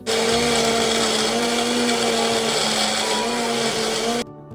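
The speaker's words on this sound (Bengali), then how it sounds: "পেঁয়াজ আদা রসুন লঙ্কা সবগুলোকে একটা পেস্ট বানিয়ে নেব" An electric blender grinds onion, ginger, garlic and chili into a paste, a loud, steady high-pitched whir that runs close and continuously for about four seconds before cutting off abruptly.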